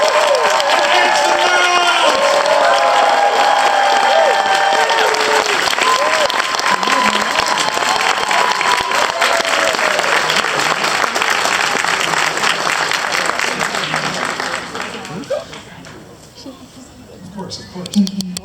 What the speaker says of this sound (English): I need y'all to make some noise and show some love for Miss CHRISTINA CHONG.